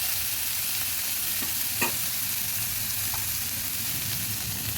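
Pomfret fish masala fries in a pan with a steady, loud, close hiss that carries on throughout, plus a single faint scrape of stirring; no voices.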